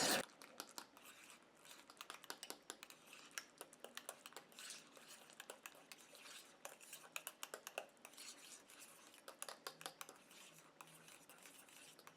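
A utensil clinks and scrapes steadily against a bowl as a homemade hair conditioner mixture is stirred, a quick irregular patter of small metallic taps up close, with no talking.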